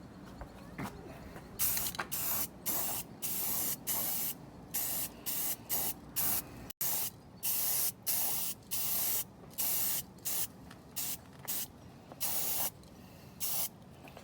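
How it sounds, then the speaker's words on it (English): An aerosol can of primer hisses in a series of short bursts while spray-painting a Willys CJ3B jeep, some clustered closely, with brief pauses between sprays, close to the listener. "let's do a quick spray of primer"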